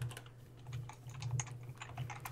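Rapid, quiet clicking of keys on a computer keyboard, steady and close, with no talk over it.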